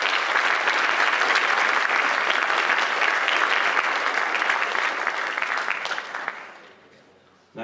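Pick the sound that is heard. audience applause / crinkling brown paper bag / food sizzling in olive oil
audience applause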